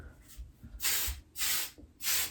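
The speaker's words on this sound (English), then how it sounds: "holding my head back and applying hairspray" Hairspray is sprayed onto long hair in three hissing bursts close to the ear, each a short, sharp, airy spritz with brief pauses between, the last two longer and louder.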